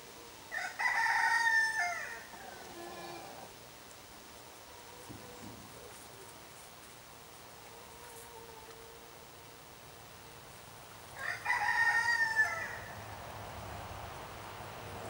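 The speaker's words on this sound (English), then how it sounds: "Roosters crowing. There's a couple little fellas right here next to me." Roosters crowing on a farm, two distinct crows a few seconds apart, fairly close, with quiet outdoor ambience in between.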